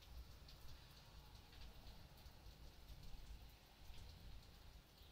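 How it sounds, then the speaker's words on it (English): Steady rain pattering on a surface, a constant hiss with scattered drops, fairly faint and with no voices. "I can hear the rain in the background as well."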